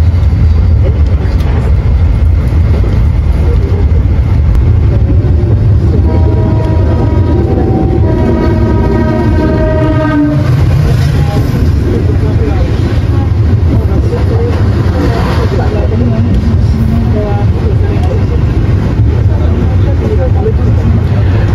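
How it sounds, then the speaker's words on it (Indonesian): The Jayabaya passenger train runs straight through Wonokromo station with a loud sustained rumble of wheels on rails and a long horn blast, while a person talks over it. "Kereta api Jayabaya melintas langsung stasiun Wonokromo"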